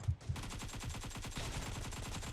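Rapid automatic gunfire in a PUBG Mobile match, a steady stream of close, evenly spaced shots after two louder opening bursts, with no talk over it.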